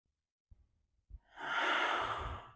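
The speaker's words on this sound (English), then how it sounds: "One full breath." A slow, deep breath during a gentle hatha yoga practice: two soft clicks or shifts, then one long, airy exhale that swells and fades, close and alone with no talking.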